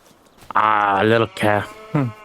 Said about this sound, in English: Looks like we have sheep over here.